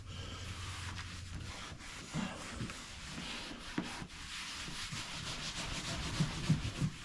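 Hands rub glued headlining fabric onto the roof of a VY Ute, a continuous close scraping and brushing texture with small bumps of pressure and no voices.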